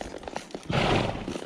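Horse blowing out through its nostrils while being trained at a walk alongside a second horse, a short breathy snort following softer huffs and rustles close by.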